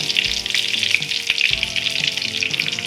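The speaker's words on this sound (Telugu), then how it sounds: "కరివేపాకు వేసేసుకోవాలి," Curry leaves and mustard seeds crackling in hot oil for a bean curry, a loud dense sizzle with popping bursts and a few low knocks from the pan, close up and without speech.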